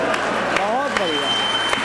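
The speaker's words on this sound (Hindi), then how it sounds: "तो तालियां जारी रहनी चाहिए" Audience applause at a Hindi kavi sammelan poetry gathering, a steady wash of clapping running through the whole moment while a voice speaks over it, with a few sharper claps standing out.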